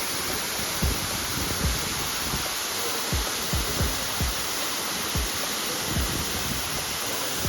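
A waterfall in Nice, France roars as steady broadband rushing water, fairly distant and even, with faint low thumps underneath and no voices.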